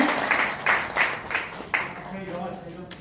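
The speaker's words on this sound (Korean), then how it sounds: "출연해주신 정강준 선생님께도 박수 부탁드립니다" At a talk on the inter-Korean border fence, an audience claps for a guest in a burst of applause that thins out into scattered claps and fades, with a voice speaking over the tail end.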